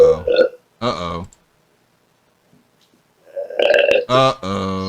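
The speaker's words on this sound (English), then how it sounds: "Excuse me, I got the burps." Several loud, short, gurgling burps from a person in two bursts separated by a quiet pause, with no talk in between.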